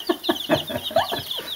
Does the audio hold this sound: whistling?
no